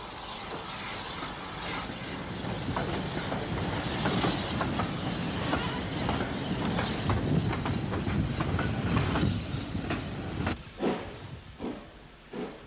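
A steam locomotive chuffs steadily as it restarts a train, with rhythmic exhaust beats and rumbling wheels, the beats becoming more distinct toward the end.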